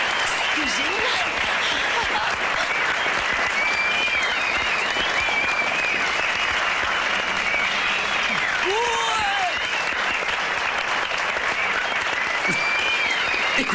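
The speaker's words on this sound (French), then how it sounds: "Tous ces applaudissements sont pour toi, Patricia." A crowd applauds a singer, broad clapping running continuously and loud, with voices and some shouts mixed through it.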